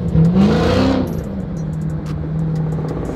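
A Dodge Hellcat Redeye with muffler delete revs hard, its engine pitch rising and falling in a loud, close growl that settles into a steady high idle with faint clicking.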